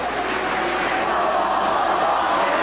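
Loyola hockey fans answering a New Trier student chant at a high school game, a dense, steady roar of crowd voices filling the arena at close range without a break.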